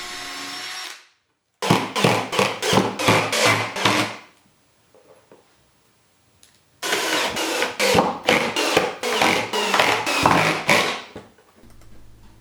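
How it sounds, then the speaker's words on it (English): A power driver sinks screws into wood cladding on a patio cooler and grill cart, in two separate bursts of rapid, rattling whirring with a quiet pause between, after a brief initial tool sound. "I put glue on the legs and tacked the side cladding in place with a brad nailer"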